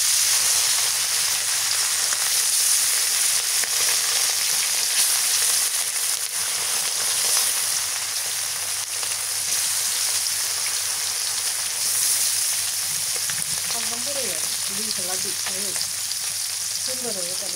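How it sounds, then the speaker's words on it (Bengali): Fish fries in hot soybean oil, a loud, steady sizzle and crackle continuing throughout at close range, with a few faint voices surfacing toward the end. "তেল গরম হয়ে গেছে মাছ দিয়ে দিই"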